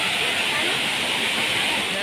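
Waterfall beside Ghatarani temple, a steady, loud broadband rush of falling water with no breaks, heard up close and filling the whole moment.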